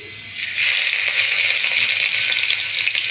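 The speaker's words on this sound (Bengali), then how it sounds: "ওই তেলের মধ্যেই দিয়ে দেব আদা কুচি" Chopped ginger hits hot oil left in a wok after frying chicken for chilli chicken, and a loud steady sizzle rises sharply and holds close up throughout.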